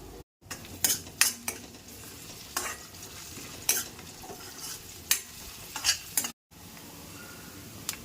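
Curry leaves crackle and sizzle in hot oil, with a spoon stirring and clinking against the pan in quick, uneven taps; close by, no talking.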